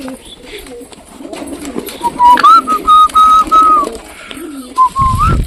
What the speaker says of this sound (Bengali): আমাদের সবকটা পায়রা চলে এসছে